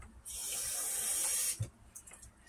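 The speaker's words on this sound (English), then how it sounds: "so let me add a little more water" Water from a tap runs into a pot of homemade enchilada sauce in a kitchen, a steady hissing pour of about a second and a quarter that stops abruptly, followed by a soft clunk.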